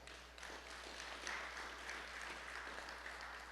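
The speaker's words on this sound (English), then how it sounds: "I think that itself deserves a round of applause." Audience applause during an aviation department presentation, quiet and distant, with a continuous patter of clapping over a low hum that holds steady from start to finish.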